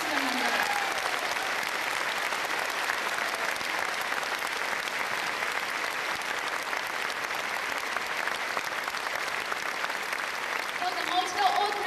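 Sustained audience applause at a welcome concert for Nelson Mandela in Japan, a dense, even clapping roar lasting many seconds without pause, with no voices rising above it.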